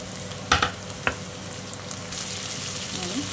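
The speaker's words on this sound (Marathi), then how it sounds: "आता आपण शिमला मिरची घालून घेऊया." Capsicum sautés over a high flame in a wok for noodles made from chapati dough, a bright sizzle with a few sharp clanks of stirring near the start.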